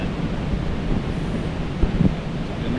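Steady wind roars across the microphone with a broad wash of surf at Melasti Krui beach on the west coast, a constant rumbling hiss. A couple of faint low thumps stand out near the end.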